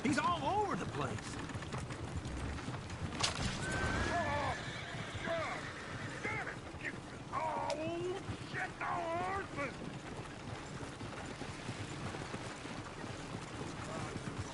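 In Red Dead Redemption 2, a horse neighs and whinnies repeatedly over clip-clopping hooves and game ambience, with voices talking intermittently in the background.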